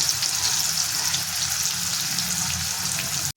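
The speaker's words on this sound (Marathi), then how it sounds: "कांदा टमाटर जिरे मोहरे हे सगळं मस्त असं भाजून घ्यायचं तेलामध्ये" Onion, tomato, cumin and mustard seeds frying in oil over a high flame, giving a dense, loud, continuous sizzle and crackle heard close up for a few seconds before cutting off abruptly.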